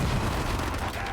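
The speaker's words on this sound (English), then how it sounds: "Nice nade" A grenade goes off in the Darktide video game, a loud dense burst of rumbling blast noise that fills the short moment and then tapers slightly, with no talk over it.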